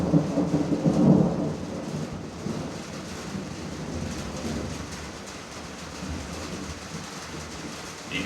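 Deep rolling thunder booms near the start, heard from a storage container camp, then a long low rumble lingers with steady rain-like hiss.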